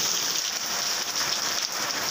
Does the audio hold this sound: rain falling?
yes